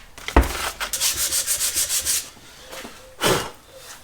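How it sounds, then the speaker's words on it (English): Hand sanding scrubs paint off the tops of metal fins on a TVR Tuscan fuel system part: a quick scrape, a run of about eight rhythmic back-and-forth strokes, then one more firm pass, close and clear. "I want to just sand off the top of the fins."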